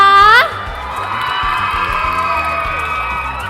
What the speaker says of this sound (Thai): คนนี้เสียงเชียร์เยอะเหมือนกันนะคุณผู้ชม